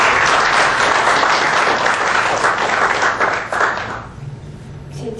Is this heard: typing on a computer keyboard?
no